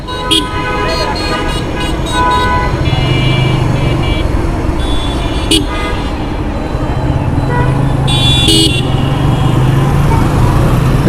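Loud, busy road traffic under a metro station in Uttara, Dhaka rumbles continuously while several car horns toot in short bursts, some in quick repeated beeps, close by.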